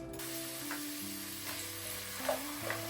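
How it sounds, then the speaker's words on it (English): Fries frying in a pan the Persian way, a steady close sizzle with faint stirring clicks over a constant tonal hum. "She's gonna show you the Persian method to cook the fries."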